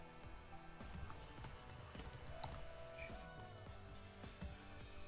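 Keys tapping on a computer keyboard while writing CSS code, a steady run of light, quick clicks with small irregular bursts throughout, close and fairly quiet.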